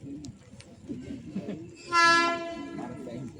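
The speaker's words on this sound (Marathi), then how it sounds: "ट्रेन येते आता मानगाव एक्सप्रेस" The Mangaon Express passenger train approaching a station, rumbling in the distance before a long, loud horn blast sounds midway, with faint voices of people waiting on the platform.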